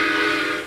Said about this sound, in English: It even has the whistle from the train.